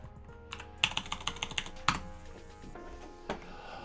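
Computer keyboard typing: a quick burst of about eight clicky keystrokes, close and crisp, followed by a couple of isolated key presses after a pause, with no talk.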